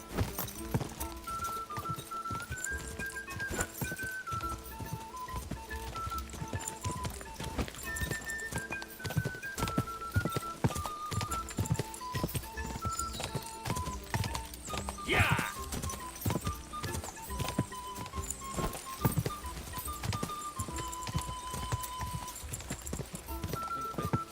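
Rhythmic hoofbeats of a galloping horse in the video game Kingdom Come, steady and close, with music playing over them and a brief whinny partway through.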